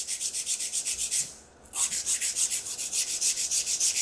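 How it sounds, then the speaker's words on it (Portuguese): A nail file rasps rhythmically back and forth along the sides of an acrylic nail extension, steady close strokes that pause briefly midway and then resume at the same even pace. "Primeiro vou então limar laterais"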